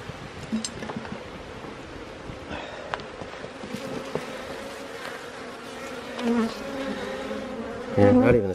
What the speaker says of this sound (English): looks like there's lots of bees on this one here